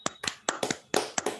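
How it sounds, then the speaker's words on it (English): Short burst of sparse clapping from a small group at a hybrid Toastmasters business school meeting, a handful of separate claps over about a second, fairly close and alone. "have a huge round of applause for Toastmaster Vishnu"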